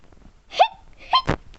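A Furby toy makes hiccup sounds, two or three short squeaky electronic hiccups that come one after another, close and fairly loud, with no speech over them.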